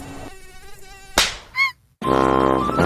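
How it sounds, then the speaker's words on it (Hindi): A housefly buzzes loudly and close, its whine rising and falling in several short passes with brief gaps of silence between them. "ओह, एक मक्खी।"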